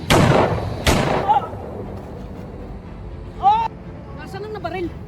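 Two sharp gunshots in a period film, close and loud at the start, one right after the other, followed by voices calling out in the quieter aftermath.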